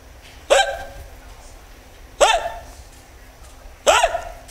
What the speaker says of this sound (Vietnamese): Không khóc không tôi nấc hoài